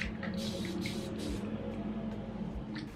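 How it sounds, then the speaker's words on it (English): A spray bottle spritzes water onto a section of dry afro hair, giving a few soft, hissing mists close by, with short bursts repeating over a steady low background. "I'm going to use my spray bottle and saturate."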